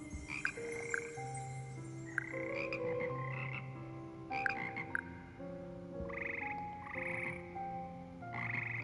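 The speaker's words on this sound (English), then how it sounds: "Singing frogs." Frogs croak in a steady chorus within a video game, layered tonal calls overlapping across the whole stretch, with no talking over them.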